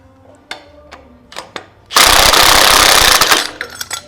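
Power impact wrench rattling bolts off a 1976 VW Beetle, a few short taps and then one loud, close hammering burst of about a second and a half.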